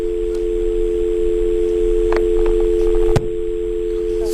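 A steady telephone line tone drones loudly after a call is cut off, with a few faint clicks, then stops abruptly, leaving a quieter hum.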